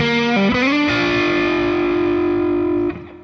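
A distorted electric guitar plays a short bluesy lick, with a bend into a long sustained note that rings and then cuts off.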